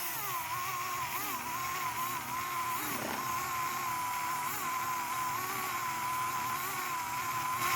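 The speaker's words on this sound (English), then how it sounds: "I'm going to deploy the cordless Dremel" A cordless Dremel fitted with a fine wire wheel whines at a steady high pitch while cleaning a coolant-leak bore on a GM 3.8L engine, close and continuous with a brief dip in tone midway.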